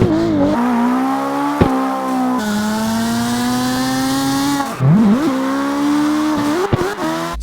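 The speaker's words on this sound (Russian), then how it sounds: "Переработали также звуки многих машин и моторов. Теперь каждый мотор звучит иначе," Drift car engine from the racing game CarX Drift Racing 2, a loud, continuous revving tone holding high RPM, dipping and rising sharply with gear shifts, alongside tire-screech texture.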